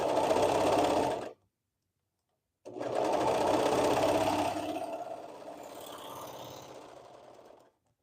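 Sewing machine stitching in two loud, steady bursts separated by a short silence, the second run gradually easing off before stopping.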